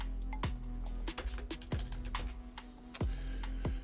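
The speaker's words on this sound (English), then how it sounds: "We'll type that in." Quick, light keystrokes tap on a computer keyboard in an irregular burst of a dozen or so clicks, close and fairly quiet with a faint steady hum beneath.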